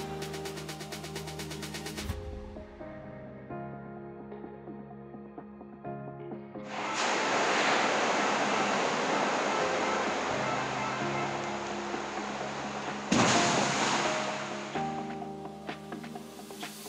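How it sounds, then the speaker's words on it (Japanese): A falling-water tsunami wave generator in a test flume lets loose a heavy roaring rush of water, with a second surge following. A steady mechanical hum with tonal whine comes before it and returns after. "これは落下式津波発生装置。 水を落下させることにより津波の先端の波形を再現します。"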